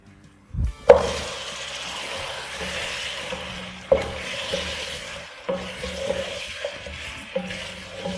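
Tender, well-cooked beef pieces drop into a pot of hot oil, with a thud followed by steady frying and sizzling, plus spoon stirs and clinks scraping the pot, close and alone.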